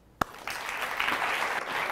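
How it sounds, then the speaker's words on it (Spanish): A TV studio audience greets the wrestler El Hijo del Santo with a short burst of applause. A sharp thump comes first, then moderate clapping builds and continues briefly. "les pido que le demos un fuerte aplauso al Hijo del Santo"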